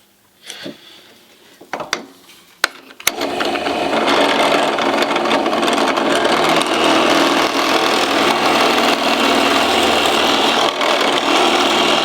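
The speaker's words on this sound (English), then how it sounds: "I usually drill the pickup cavities to about 18mm deep" A drill with a depth stop bores pickup cavities into a hard maple guitar body, starting after a few sharp knocks and then grinding loud and continuous for about nine seconds.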